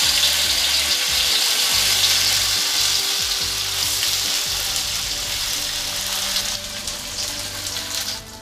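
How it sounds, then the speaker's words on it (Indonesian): Tofu pieces frying in hot cooking oil, a steady close sizzling crackle that runs throughout at a fairly loud, even level with no talking. "setelah minyak panas kemudian masukkan atau goreng tahu"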